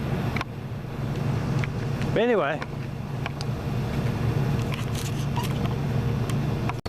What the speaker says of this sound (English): you can hear the traffic as it goes sliding by